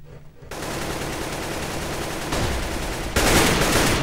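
Rapid automatic gunfire in the video game CS:GO, loud and sustained bursts that swell and intensify toward the end, with no talk over them.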